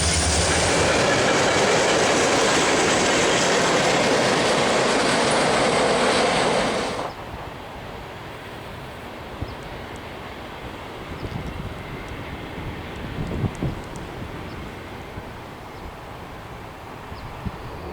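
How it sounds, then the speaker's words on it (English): Eastbound Santa Fe freight train led by a GP35U locomotive, loud and close at first with broadband rumble and rail clatter, then cutting off sharply to a faint distant rumble, approaching Tunnel 3. "Another eastbound led by a GP35U approaches Tunnel 3 after rolling through Christie."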